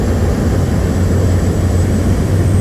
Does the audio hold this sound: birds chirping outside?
no